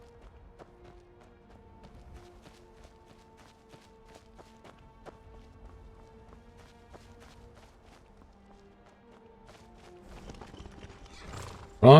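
Horse hooves clip-clopping with neighing in the video game Skyrim, a loose rhythm of hoof taps over soft ambient tones, growing busier and ending in a sudden loud burst.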